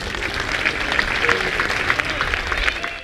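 An audience claps in sustained, dense applause at a football club's Notte Blu celebration; the clapping stays steady and fairly loud for the whole stretch, with some crowd murmur underneath.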